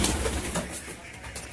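Pigeons in a loft coo steadily up close, several soft throaty calls overlapping with no talking.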